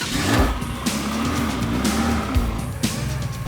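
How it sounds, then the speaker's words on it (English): A Ferrari pulls away on city streets, its engine a steady loud drone with rising and falling revs and a brief tire squeal, heard close from inside or near the car. "A big part of the price you pay for this car is for the sound of the engine."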